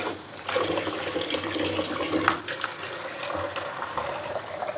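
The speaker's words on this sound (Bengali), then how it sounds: "এই ভাতটা আগে জল দিয়ে বার করে দিই" Water running and splashing across a kitchen floor to rinse out spilled rice, a steady, moderately loud gush with scattered splatters, alone without talk.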